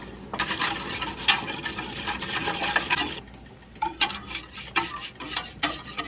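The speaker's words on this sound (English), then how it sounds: "Whisk that together." A citric acid and salt mixture for canned apple pie filling is whisked in a pot, giving busy rapid scraping and clicking strokes that pause briefly midway, then resume in irregular bursts, close up with no voices.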